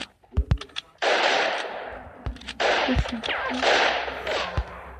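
Sharp video game gunshots crack out in quick bursts, with a few isolated shots between louder sustained stretches of firing.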